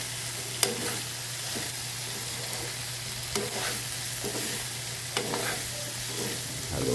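Sautéed mixed vegetables (ginisang gulay) crackle in a pan as a utensil stirs them, a few distinct scraping knocks over a continuous close sizzle, with no one speaking.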